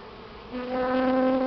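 Honey bees buzz around a comb being shaken, a steady insect drone that swells and grows louder halfway through.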